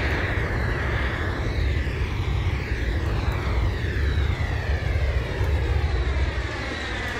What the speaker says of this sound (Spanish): Haciendo un ruido aerodinámico característico.